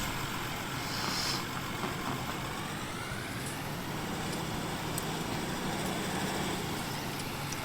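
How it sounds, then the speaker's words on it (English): Farm vehicle engine in Farming Simulator 19 running at a steady idle, a low continuous diesel drone with a brief rise early on, heard alone without talk. "Start our engine."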